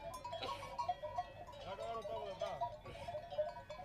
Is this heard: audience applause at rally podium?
no